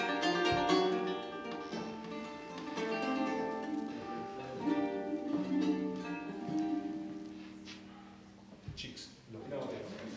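A ronroco, the deep-voiced baritone charango of South America, plays a sustained run of strummed and plucked chords, loud and close, with a brief pause near the end before the strings ring again.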